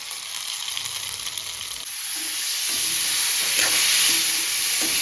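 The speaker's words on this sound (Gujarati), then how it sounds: "હવે દાળનો વઘાર કરવાનો છે તો તેલ આવી ગયું છે" Hot oil sizzles and crackles in a pan while tempering dal, the hiss swelling louder after a couple of seconds and holding steady.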